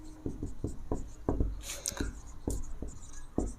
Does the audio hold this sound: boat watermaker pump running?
no